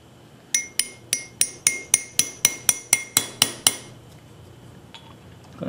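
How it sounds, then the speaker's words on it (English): A hammer drives a thin seal into a hydraulic floor jack being rebuilt, with about a dozen sharp metallic strikes at a steady, even rhythm that then stop. "Gonna hit it down until it bottoms out."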